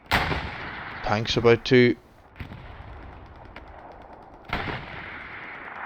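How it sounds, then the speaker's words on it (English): Distant artillery booms land in a Hell Let Loose clan battle at Sainte-Mère-Église, with a couple of dull thuds alongside several players talking. "Artillery still falling, is it? Yeah, we have 2 artillery guns going"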